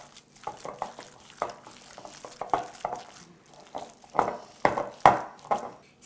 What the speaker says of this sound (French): On mélange le tout à la baguette ou avec les mains.